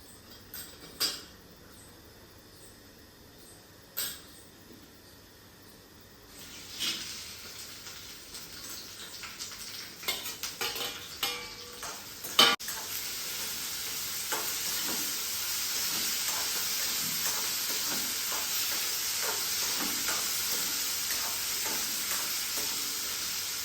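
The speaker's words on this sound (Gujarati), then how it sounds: "એવી જ રીતે આપણે ઝીંગાનું શાક વઘારી લઈએ." Prawn curry is tempered and stirred in a hot pan, with a steady sizzle and hiss. Scraping and clinking of the utensil stand out in the first half, then the frying noise swells into a continuous close-up crackle with no talk.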